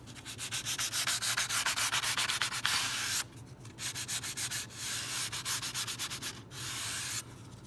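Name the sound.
sanding a wooden guitar back strut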